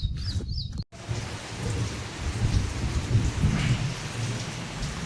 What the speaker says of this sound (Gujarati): 2 વાગ્યા છે ને પાછો વરસાદ મંડાણો છે